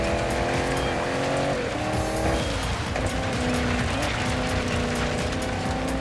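Porsche Cayenne off-road in the Dirt 5 racing game, its engine droning steadily with shifting pitch and tyre noise throughout, loud and continuous with no pause.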